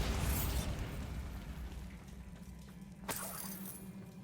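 A Bombarda spell blast in Hogwarts Legacy: a loud burst at the start fading into rumbling low game ambience, then a second sharp crackling impact near the end, with no talk.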